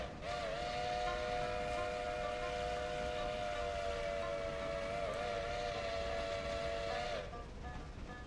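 A steam locomotive whistle in the train game Railroader, the Crosby 3, sounds one long steady chime-like blast lasting about seven seconds, loud and alone with no talk over it.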